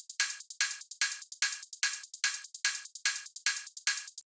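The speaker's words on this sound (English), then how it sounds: "it just features one closed hat and an open hat." A psytrance hi-hat loop alternates one closed hat with one open hat in a steady, fast repeating pattern, crisp and bright, with no other sounds.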